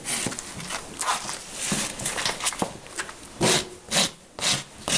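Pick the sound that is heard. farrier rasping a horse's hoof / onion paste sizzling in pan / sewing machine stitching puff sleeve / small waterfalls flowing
farrier rasping a horse's hoof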